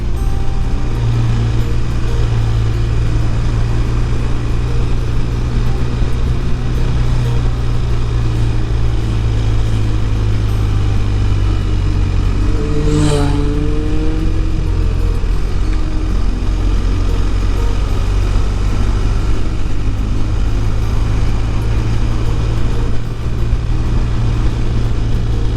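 A BMW R1250RS motorcycle descends a winding mountain pass, its engine a steady loud drone mixed with rushing wind noise, with a brief rising whine midway.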